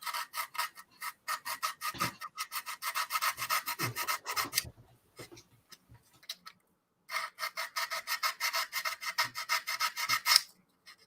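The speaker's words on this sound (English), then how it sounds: "So all I'm doing is just sanding that down" Close, dry rasping of a hand file worked back and forth over a small model part, in steady rhythmic strokes, with a brief pause midway before the filing resumes.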